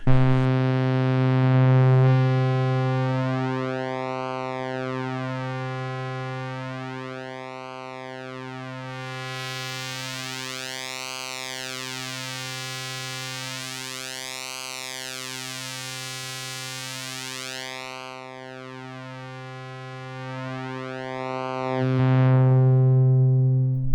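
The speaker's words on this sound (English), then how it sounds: "The sort of wavy sound is actually the pulse width modulation on the System 512 VCO" A steady synthesizer tone from a System 512 VCO through a JP8 filter set to 12, high pass, with a sweeping, wavy pulse-width modulation cycling slowly up and down, filtered and buzzy, sustained alone at constant loudness.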